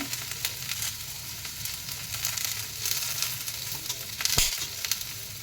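Pepper, cinnamon and cloves fry in a pan for a mutton head-meat sambar, producing a continuous crackling sizzle with soft stirring, moderately loud and close, with one sharper knock near the end.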